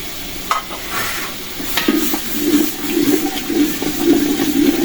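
Spices and green chillies frying in a pan for a festive Eid dish, a steady close sizzle with occasional stirring scrapes and clinks, no talking.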